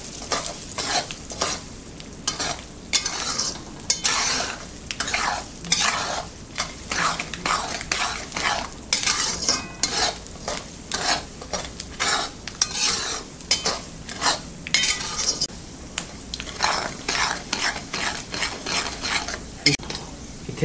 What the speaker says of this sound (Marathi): तर हे पण आपण आता हलकसं ह्या रव्याबरोबर भाजून घेऊया।